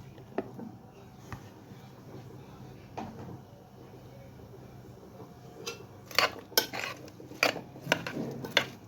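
Peas tip into a tagine pot in a home kitchen. Clattering clinks and knocks of cookware come close and grow busier toward the end, with a quiet voice under them.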